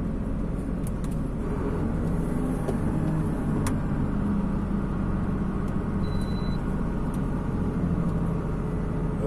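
Heavy truck rolling downhill with the engine brake engaged on a mountain road near Los Andes, Chile, a steady low droning rumble filling the cab, constant and close, with faint clicks and a brief thin tone above.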